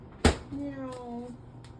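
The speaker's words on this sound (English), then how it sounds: "What are you meowing for, sweet pea?" A house cat meows in a home kitchen while groceries are being put away, a short, rising-and-falling cry preceded by a sharp knock, close and moderately loud in a quiet room.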